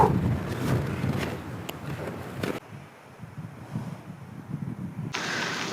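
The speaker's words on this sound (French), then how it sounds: "Je m'excuse pour le vent. Il vente vraiment beaucoup." Strong gusts blast straight into an outdoor microphone, producing loud rumbling buffets that rise and fall unevenly, briefly drop away, then return.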